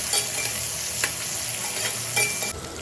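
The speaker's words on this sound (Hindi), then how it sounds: "कैप्सिकम को थोड़ी देर चलाने के बाद इसमें सारे अनियन भी डाल दी" Chopped capsicum and onions sizzle steadily in a hot pan while a spoon scrapes and stirs them in a few sharp, clattering strokes, heard close and without talk.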